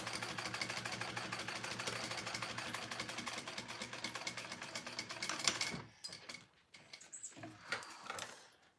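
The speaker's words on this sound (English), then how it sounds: "I'm top stitching through all those layers" A sewing machine top stitching through several fabric layers of a crossbody bag, running as a steady fast mechanical whir for over five seconds and then stopping, followed by a few quiet clicks and handling noises.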